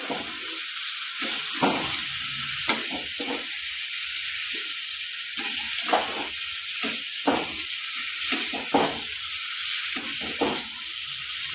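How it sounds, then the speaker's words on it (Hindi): A spiced eggplant and potato mixture sizzles steadily in a pan while a spoon stirs it, with repeated scraping and clacking strokes over the constant frying hiss, no voices. "आब एकरा सबटा के बढ़िया से मिला दै छियै।"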